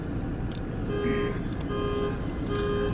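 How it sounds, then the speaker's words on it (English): Steady car horn tones sound over and over, holding a constant loud blare with rhythmic pitch pulses against a dense background of traffic noise. "You can probably hear the incessant honking of a car"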